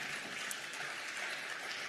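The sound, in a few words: audience clapping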